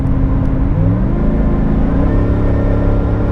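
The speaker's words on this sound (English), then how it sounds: "can you hear that extra loud exhaust?" Loud car exhaust set to its extra-loud Baja mode, revving with a deep, continuous rumble that climbs and wavers in pitch, close and steady throughout with no talking.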